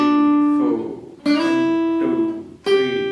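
A few picked guitar notes ring out one after another with clear gaps; the pitch of the last note glides upward into place.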